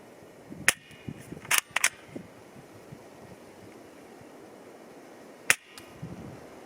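A Samopal vz.61 Scorpion fires at targets 10 m away, giving sharp close cracks in a quick cluster of several shots, a pause, then a single report against light outdoor wind noise.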